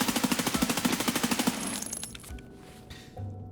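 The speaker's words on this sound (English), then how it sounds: "if we just mag dump this M4" An M4 rifle in Escape From Tarkov empties its whole magazine in one fast, evenly spaced burst of about twenty close shots, followed by metallic reload clicks and handling noise.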